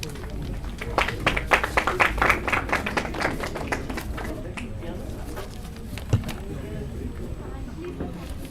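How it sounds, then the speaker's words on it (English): An audience at a dental college implantology workshop bursts into a round of applause that peaks early and then thins into scattered claps, with voices murmuring underneath. "A big round of applause, everyone."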